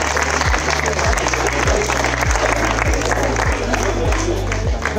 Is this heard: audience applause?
yes